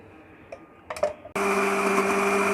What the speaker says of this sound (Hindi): चलिए अब हम इसको ब्लेंड करते हैं।